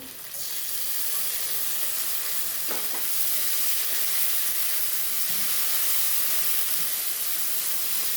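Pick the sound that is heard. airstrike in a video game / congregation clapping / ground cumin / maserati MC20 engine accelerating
ground cumin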